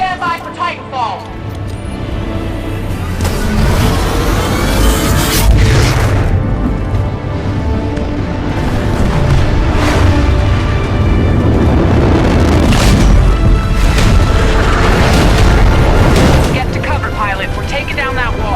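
A Titan drop in Titanfall 2 on an airbase assault, with heavy booms and explosions rolling on loud and continuous under a dense battle din, plus a voice speaking in the mix.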